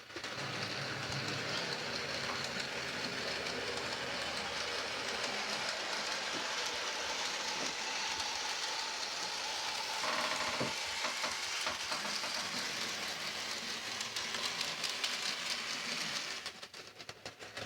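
A Dapol Class 27 model locomotive, freshly repaired after a derailment fault, runs laps of a test track with a steady, close-up whirring rumble and faint rail clicks that continue unbroken and fade near the end.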